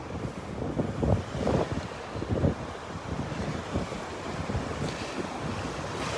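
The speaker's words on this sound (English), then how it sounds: "Ooh, that wind's still coming out of the north." Wind blowing steadily off the north across the beach at Delnor-Wiggins, with surf washing in, a constant broadband rush with gusty swells and buffeting against the microphone throughout.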